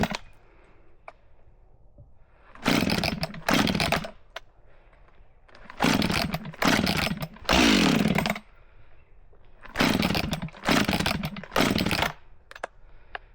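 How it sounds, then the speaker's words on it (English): Husqvarna chainsaw pulled to start and then revving in bursts, loud close engine roars broken by short idle lulls, used for tree removal of a leaning poplar. "now we're gonna fire up the Husqvarna"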